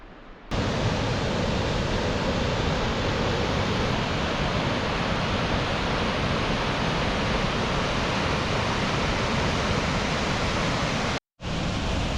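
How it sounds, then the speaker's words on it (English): Bugaboo Falls in British Columbia, a waterfall on a trail: dense, steady roaring rush of falling water, loud and close, starting abruptly and cutting out briefly near the end. "Bugaboo Falls turned out to be a pretty cool waterfall, quite unique."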